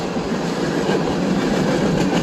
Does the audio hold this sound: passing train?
yes